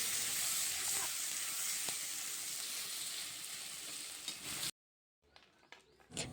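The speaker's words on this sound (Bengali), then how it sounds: "আর এখন আলুর ঝুরি করার জন্য কড়াইতে তেল দিয়ে আলুগুলি দিয়ে দিলাম" Potato shreds fry in oil in a kadai, giving a steady, close sizzling hiss that holds for several seconds and then cuts off abruptly, leaving near silence with a few faint clinks.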